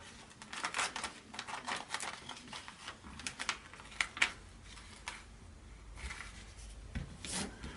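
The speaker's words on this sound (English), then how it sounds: "take either your origami bone material and smooth this all out so it's down flat" Soft rubbing and rasping strokes of an origami bone folder pressed across contact paper laid flat on paper, repeated in uneven bursts, close and fairly quiet with no talking.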